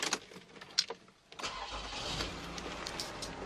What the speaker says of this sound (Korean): 바로 시동 한번 걸어볼게요.